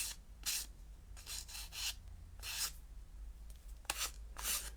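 A small nail file rasps in short, quiet strokes, several separate scrapes spaced irregularly with brief pauses, close but faint.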